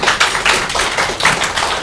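An audience at a school artwork exhibition opening for Refugee Week applauds with a steady, dense wash of hand claps that lasts the whole stretch without talk.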